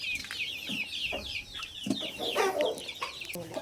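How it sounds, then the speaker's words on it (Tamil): Chickens and baby chicks on an organically raised chicken and goat farm, clucking and chirping in a busy, overlapping flock chorus, close by and fairly loud with no talking. "baby chicks"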